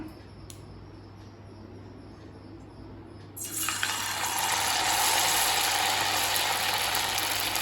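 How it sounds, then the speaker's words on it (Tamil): A low background hum, then a sudden loud sizzle bursts in as potatoes hit hot oil, settling into a steady crackling hiss of frying. "நம்ம உருளைக்கிழங்கு போட்டு பொரிக்க ஆரம்பிச்சிடலாம்"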